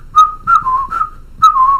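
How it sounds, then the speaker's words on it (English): A person whistles an Italian song in short, clear melodic phrases, a close and bright run of four or five notes with brief breaths between them. "Which song are you whistling? That Italian song."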